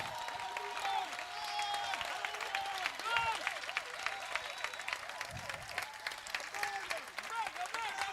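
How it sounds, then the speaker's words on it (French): A church congregation at a Sunday service claps for the Lord. Continuous, fairly soft clapping sits beneath loud sung and chanted voices throughout. "Acclame le Seigneur! Clap for the Lord!"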